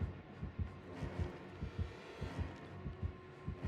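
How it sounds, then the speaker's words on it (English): The killer's terror radius heartbeat in Dead by Daylight, Michael Myers approaching during a league playoff match, a steady low thumping pulse repeating under a dense game hum. "Heartbeats."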